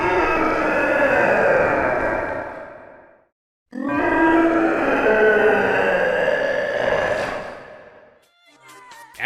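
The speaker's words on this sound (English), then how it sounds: "Then we got a pair of unused roars from Time Eater." Two long, growling boss roars from Time Eater in Sonic Generations, both loud and dense, separated by a short silence, with a brief rattling tail at the end.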